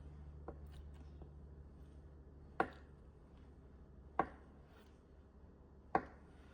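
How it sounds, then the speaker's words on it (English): Three sharp knife strikes chop tofu on a cutting board, spaced about a second and a half apart over a quiet low hum, with a few fainter taps earlier. "the tofu needs to be chopped up as well"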